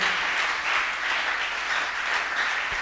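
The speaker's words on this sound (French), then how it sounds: "Acclamons-le très fort." A church congregation applauds loudly and continuously, a thick, even wash of clapping filling the space from start to finish.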